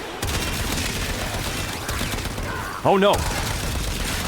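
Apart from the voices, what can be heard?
full-auto gunfire in the video game Warframe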